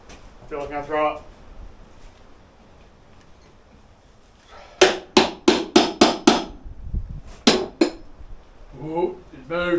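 A hammer strikes metal repeatedly while an outboard motor is fitted on a sailboat, a quick series of sharp, ringing blows in a burst, then two more, with people talking before and after.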